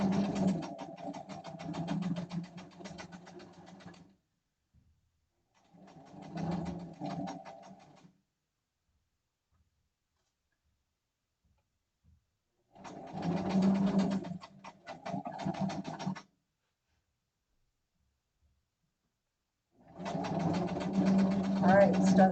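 A sewing machine stitching fabric for pajama pants, running in several steady bursts of a few seconds each with quiet pauses between, close and moderately loud.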